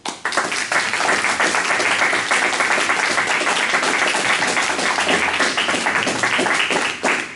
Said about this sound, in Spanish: Con un fuerte aplauso, por favor.